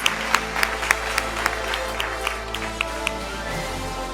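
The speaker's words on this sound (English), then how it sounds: "she certainly deserves a thunderous round of applause" An awards ceremony audience applauds, with scattered sharp claps standing out over a steady low hum and a background of crowd noise.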